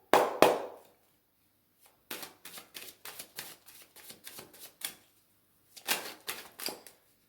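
Oracle cards from a nine-card mirror deck are shuffled and laid out: a close riffle-like burst opens, then a quick run of crisp slaps and taps as cards hit the table, a pause, and a few more placements, alone without talk.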